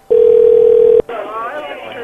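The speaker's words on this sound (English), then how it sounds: "I am going to call that payphone right now" A payphone is being called: a loud steady ringback tone holds for about a second, then breaks off as a voice starts talking over faint line noise.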